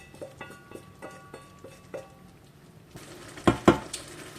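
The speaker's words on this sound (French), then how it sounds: "Là maintenant je vais incorporer ma viande hachée que je viens de cuire à part. Je la mets dans ma sauce tomate." Cooked ground beef is tipped into tomato sauce for lasagne bolognese: a run of light rhythmic spoon taps against the pot, then a couple of louder clanks and a wet plop, close by.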